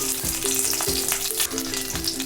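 Chopped green chillies sizzling in hot mustard oil in a kadai with cumin seeds, a loud, close crackling fry with a few sharp spatters over continuous hiss.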